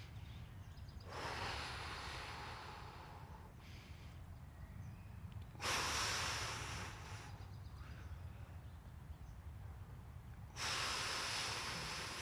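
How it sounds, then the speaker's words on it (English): Slow, deep breaths during a floor stretch, each long airy inhale or exhale rising and fading with quiet gaps between, close and soft in a still room. "breathing deeply"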